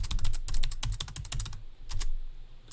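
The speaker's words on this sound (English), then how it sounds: "now he's typing that in Braille" Quick, clattering keystrokes come from a Braille keyboard in a radio studio, a rapid close run of clicks that pauses briefly and then resumes with a few more taps, with no talking.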